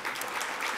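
An audience at an awards ceremony claps steadily in a short, fairly quiet burst of applause.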